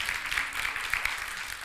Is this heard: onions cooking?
no